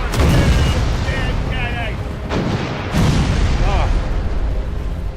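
Ship cannons fire in the naval combat game Furious Seas, two heavy booming blasts with rumbling tails, loud and close, while a voice speaks over them.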